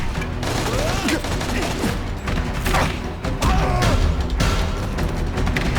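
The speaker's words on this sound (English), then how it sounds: "That's the kind of heavy artillery you see in a combat zone." Heavy artillery gunfire in The Amazing Spider-Man 2 pounds without letup, loud and dense with booming crashes and clattering mechanisms, while a voice speaks faintly underneath.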